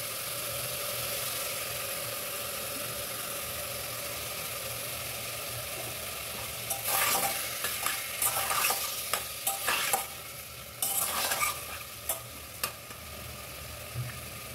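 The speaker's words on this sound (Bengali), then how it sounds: "ভালো করে কষিয়ে নিচ্ছি।" Ginger-garlic paste and coriander stems sauté in a pan for chicken stew: a low, steady sizzle at first, then repeated scraping stir strokes in short bursts during the second half, close and clear.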